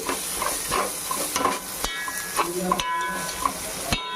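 Turmeric and garam masala stirred into hot oil in a frying pan for chicken biryani, with a soft, constant sizzle under irregular scraping strokes and small clinks of a spoon against the pan.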